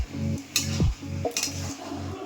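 Cabbage being stirred in a pan with a utensil: a few scraping and clinking strokes over a steady low sizzle.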